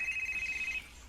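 A telephone rings with an incoming call, one bright electronic ringing burst lasting most of a second before cutting off, fairly clear against a quiet room.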